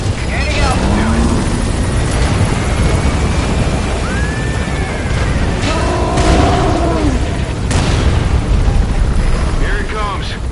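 Helicopter in Metal Gear Solid V: The Phantom Pain flying amid combat, a loud, dense rotor roar mixed with booming explosions and gunfire, with radio voices talking over it.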